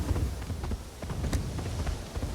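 Hoofbeats from a Sakura Fox mount in Assassin's Creed Shadows, a steady run of clip-clop steps at a moderate pace over a continuous low game background, with no talking.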